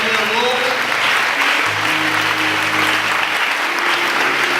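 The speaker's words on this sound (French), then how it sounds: "Clap hands for Jesus." Steady congregational clapping for Jesus fills a church service, a dense continuous roar of hands with sustained musical tones and murmured voices underneath.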